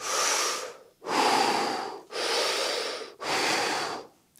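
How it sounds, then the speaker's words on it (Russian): Rapid Wim Hof method breathing: four forceful, evenly spaced breaths about a second each, loud and close with no pauses between them. "у вас происходит 30 циклов дыхания в минуту"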